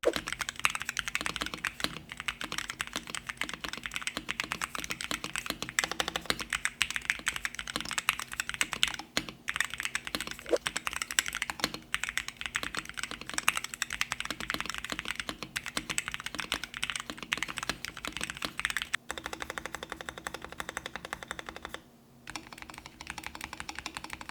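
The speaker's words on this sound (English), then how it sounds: "I really enjoy the sound profile of this keyboard, but I think you should take a listen for yourself." Rapid, continuous clacking of a Ducky One X mechanical keyboard being typed on up close, keystrokes tumbling quickly with brief pauses near the end.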